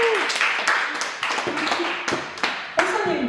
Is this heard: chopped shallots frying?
no